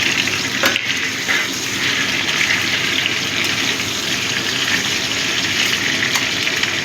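Chopped tomato is frying with cucumber in a pan for a prawn and cucumber curry. A loud, dense, continuous sizzle runs throughout with no talking.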